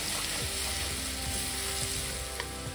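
Cumin seeds and 1.5 tablespoons of garlic sizzle and fry in hot ghee while cooking a raw turmeric sabji. There is a steady, close crackling hiss with occasional faint stirring clicks and no talk.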